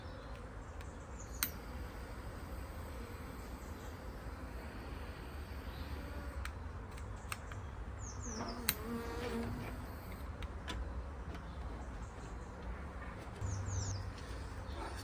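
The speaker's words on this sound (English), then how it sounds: "There's too many bees in there." Honeybees buzzing steadily around an open nuc colony outdoors, a dense close drone with individual bees passing near, plus a few faint bird calls and clicks, no talk.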